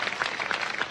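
Short stretch of applause at a small gift presentation, quiet and steady with soft clapping spread evenly throughout.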